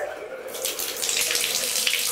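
A bathroom tap in a one-bedroom apartment in Wilmette, Illinois is turned on, and water gushes at strong pressure, rising from a faint trickle to a steady loud splashing rush into the basin.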